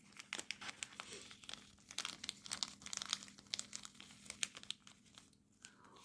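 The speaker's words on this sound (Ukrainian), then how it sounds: "Ось так в пакеточку. Пакеточок я закриваю." A small plastic bag crinkles and rustles up close in quick irregular bursts as it is handled and folded shut, fairly soft against a quiet room.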